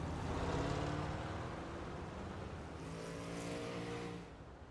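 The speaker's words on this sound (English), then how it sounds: "So we still have one more car on pit road here." A 305 sprint race car runs at Williams Grove Speedway, its steady engine roar filling the clip loud and close before easing slightly near the end, with no talk over it.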